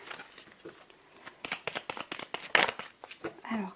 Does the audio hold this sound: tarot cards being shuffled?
yes